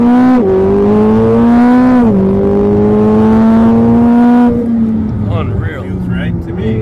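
A Corvette C8 ZR1 runs at full power on a track, its engine note climbing hard through the revs close up, with quick shifts breaking the rising howl before it eases off.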